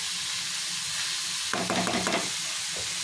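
Paneer bhurji with spices being sautéed in a pan: a constant soft sizzle, with a short burst of stirring and scraping partway through, close up and with no talk.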